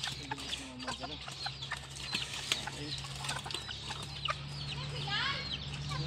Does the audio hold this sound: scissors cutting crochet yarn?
no